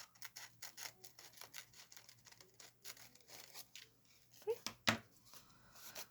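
Scissors snip a paper winter craft embellishment at an angle, giving a quiet series of small cuts and crinkles, ending in a couple of sharper snips, with a brief spoken word in between.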